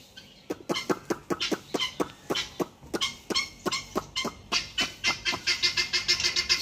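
Ducks quack in a rapid, rhythmic series of short, sharp calls that repeat steadily and grow denser toward the end. The quacking is close and loud, with no talking.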